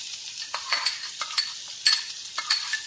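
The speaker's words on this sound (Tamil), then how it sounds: "லேசாக வதக்கினா போதும், ரொம்ப வதக்க வேண்டாம்." Onions and capsicum sizzle steadily in a hot pan, with a spoon scraping and stirring in short, repeated strokes close by.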